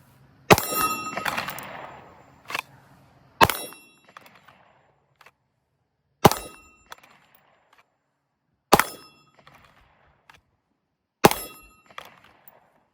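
Pistol shots ring off steel targets during holster draw drills: five sharp, loud clangs spaced a few seconds apart, each with a metallic ring, the first followed by a longer rumbling tail and faint clinks between.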